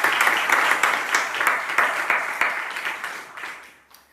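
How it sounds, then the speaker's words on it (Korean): A church congregation at a Sunday service of an artillery battalion claps together in a dense burst of applause that gradually thins and fades out. "박수"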